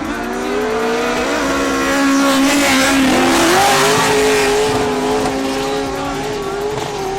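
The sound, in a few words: drift car at a drift competition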